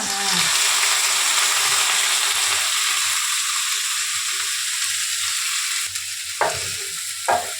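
Tomatoes sizzle and fry in a hot pan up close, a steady hiss that thins out after a few seconds, broken near the end by a couple of sharp scraping stirs.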